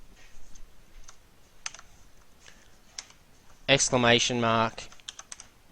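Code being typed on a computer keyboard, with scattered crisp key clicks spread unevenly throughout and someone briefly speaking over the middle stretch.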